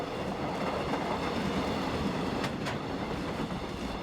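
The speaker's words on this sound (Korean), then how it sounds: "2004년까지도 달천 철장에 철광석을 실어 날랐던 호계역 화물열차." A freight train that carried iron ore from Hogye Station rumbles by at a steady moderate level, with continuous wheel and carriage noise and two brief sharper clacks partway through.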